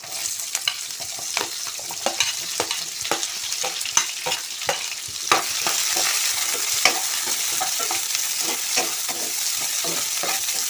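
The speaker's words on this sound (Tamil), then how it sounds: "அடுத்து நம்ம ஆல்ரெடி நறுக்கி வச்ச பெரிய வெங்காயத்தை இதில் சேர்த்துக்கலாம்" Chopped large onions sizzle steadily in hot oil while a utensil scrapes and stirs the pan in repeated strokes, close up, with no talking, while cooking chicken gravy.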